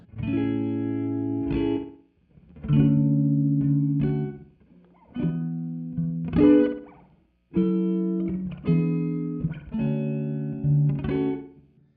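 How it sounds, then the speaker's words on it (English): Guitar notes through a Time Dilation V5 pedal set to a subtle modulated reverb with sine modulation, several sustained chords ringing out with gentle wavering shimmer and short gaps between phrases. "this way it gives it a bit of like a modulated reverb sound."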